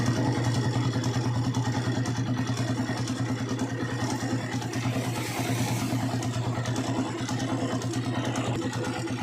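A Honda TMX155 motorcycle engine idles after its idle screw is adjusted, a steady, low, rapid chugging throb heard close up and without a break.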